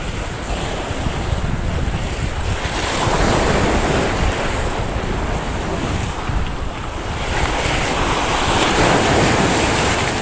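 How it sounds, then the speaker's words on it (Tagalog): Big ocean waves surging around a fishing spot, a loud continuous roar of surf and wind buffeting the microphone, swelling and easing in broad waves. "laki ng alon guys"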